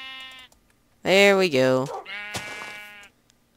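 A sheep in the video game Minecraft gives several loud, wavering bleats in quick succession, close and clear. A person speaks briefly between them.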